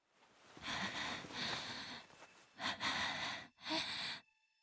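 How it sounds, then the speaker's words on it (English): Heavy panting breaths in the visual novel game Chaos;Child come as several breathy bursts with short gaps, close and fairly quiet, with no speech. "I heard panting in my ear."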